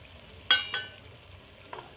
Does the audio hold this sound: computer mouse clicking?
no